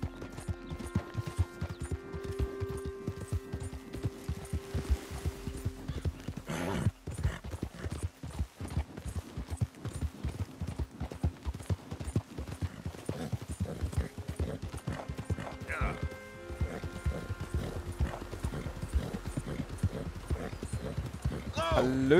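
Horse hooves in Red Dead Redemption 2, a rapid, steady clip-clop of a galloping horse running nearly continuously, close and prominent, with occasional game sounds and someone talking over it.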